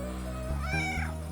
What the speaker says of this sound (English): Yes, there's a cat in the background.